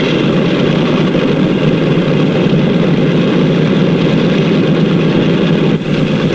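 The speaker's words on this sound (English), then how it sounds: "The plane starts over to the runway" Steady, loud engine drone with a low rumbling idle from an airliner taxiing toward the runway, continuous throughout, with no voices.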